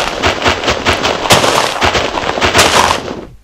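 Rapid, dense crunching of blocks being dug out one after another in Minecraft, a busy run of loud clattery hits that ends abruptly.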